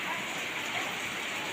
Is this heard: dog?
no